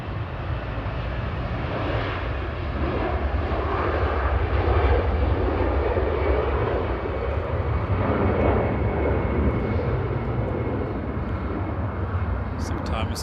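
An EasyJet airliner, registration EZPB, departs Manchester Airport on its flight to Amsterdam, a broad steady engine roar holding loud and even throughout, with faint voices underneath.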